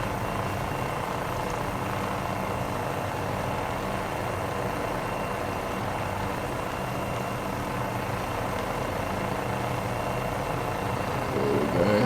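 Steady droning rotor and engine of an MD500E helicopter in Microsoft Flight Simulator 2020, flying over New Zealand during a firefighting water-drop run, loud and continuous throughout.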